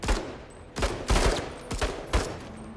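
Gunfire in the tactical video game Menace: four or five loud, close bursts of rapid shots in quick succession, each sharp crack followed by a short rumbling tail.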